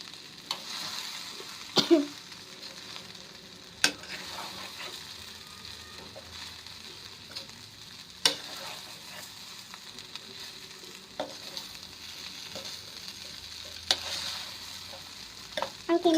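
Chicken biryani masala is stirred and fried in a pan, with a faint continuous sizzle broken by sharp scrapes and clinks of the spoon against the pan at irregular intervals.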